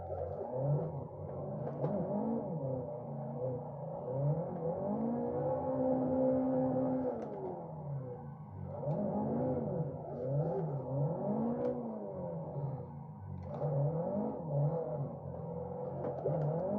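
A car engine bogging and revving in the Assetto Corsa racing game while drifting at Sweetwater Motorplex Park, with a steady droning engine that rises and falls in pitch, lugging under load with no talk.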